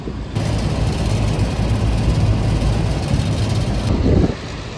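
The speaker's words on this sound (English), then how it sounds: "So that compressor, it stayed on." An HVAC unit's large compressor running steadily with a loud, continuous low mechanical hum and broadband whir that starts abruptly and holds for several seconds before dropping off, with no talking.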